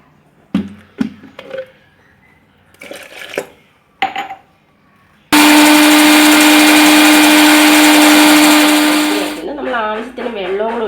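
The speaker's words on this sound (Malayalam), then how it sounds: "വെള്ളം ഒഴിച്ചിട്ട് നമ്മളൊന്നും കൂടെ മിക്സി അടിക്കണം" A mixer grinder blending juice with water roars loudly and steadily for about four seconds, then winds down, after scattered clinks and knocks of handling the jar.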